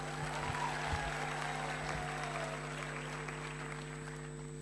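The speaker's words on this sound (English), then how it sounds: "Let's give them another round of applause." Steady applause from an audience, sustained and even throughout, with a constant low hum underneath.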